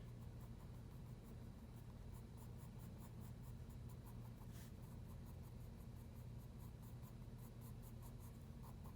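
A pencil makes soft, rapid scratching strokes on paper while drawing hairs on a forearm sketch, heard as faint repeated short flicks over a low steady hum.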